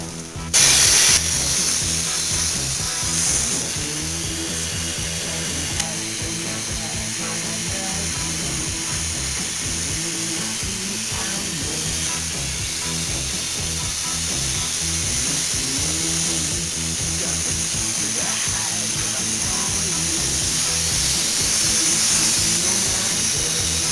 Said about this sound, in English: Got my Volo kite pump here.